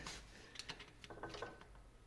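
Headstock gears of a 1950 LeBlond Regal 17-inch lathe turning during restoration, a quiet, steady mechanical whir with soft clicking and ratcheting through about two seconds, no talk over it.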